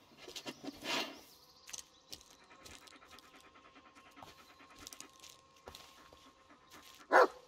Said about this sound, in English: were you just barking at the footprints?